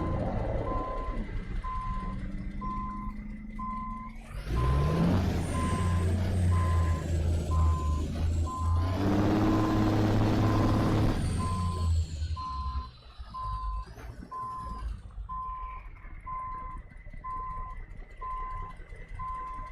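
Truck reversing beeps in American Truck Simulator, a steady evenly spaced beeping that runs through the whole stretch over a loud diesel engine rumble, with hissing air brakes and engine surges in the middle.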